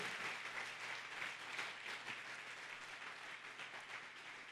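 A church congregation gives the Holy Spirit a long, loud round of applause. The clapping stays dense and steady from start to finish, with no pause.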